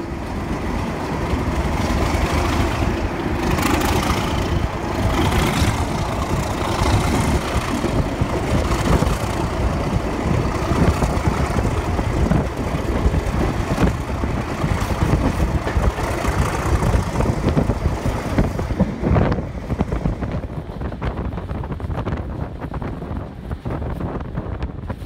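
British Rail Class 37 diesel locomotive idling, a continuous low rumbling drone with steady engine throb, heard close and loud with some wind buffeting the microphone, no talking.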